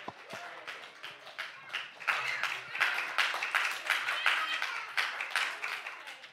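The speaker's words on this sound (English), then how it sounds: "so they can give you a round of applause as well" A church gathering at a vacation Bible school closing gives a team a round of applause; a crowd's claps build from scattered hits to a full, lively patter with voices mixed in beneath.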